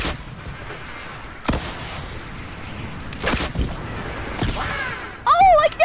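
Gunfire in the video game Fortnite: several sharp shots a second or two apart, then a dense burst of loud firing and whooshing near the end, with no speech over it.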